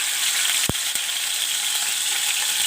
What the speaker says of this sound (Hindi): तेल के अंदर हम थोड़ा सा लहसुन डालेंगे